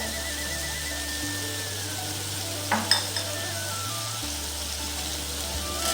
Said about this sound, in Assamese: মিডিয়ামটো হাই ফ্লেমত ৰাখি মছলাখিনি সিজিবলৈ দিছোঁ